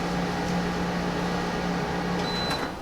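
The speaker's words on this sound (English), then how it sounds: "Got to run a dehumidifier in here." Dehumidifier running in an unheated machine shop, a steady low electrical hum with a constant mechanical drone, close and even, with a faint brief click and thin high tone near the end.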